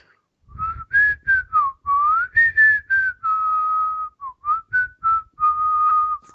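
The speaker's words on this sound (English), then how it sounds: "Why are you whistling?" A person whistles a wandering tune up close, in short phrases with brief pauses between notes.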